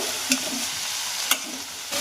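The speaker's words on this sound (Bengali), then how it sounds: "তোকে ওখানে চাউমিনগুলো ভেজে দিচ্ছি" Chowmein frying in a pan with vegetables, a continuous sizzle broken by a couple of sharp scraping knocks as the back of a ladle stirs the noodles.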